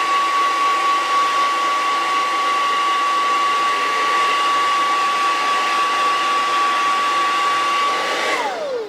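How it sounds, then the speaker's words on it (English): A hair dryer blows steadily at close range drying paint on a model Klingon battle cruiser, a constant whirring roar with a high whine that drops away as it switches off at the end. "take out the handy dandy blow dryer, blow dry it up"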